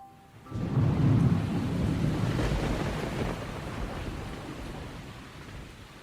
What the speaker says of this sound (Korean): 갑자기 천둥 번개가 치더니 세찬 바람과 함께 억수 같은 비가 쏟아졌습니다.